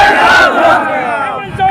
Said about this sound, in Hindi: भीड़ आक्रोशित हो जा रही है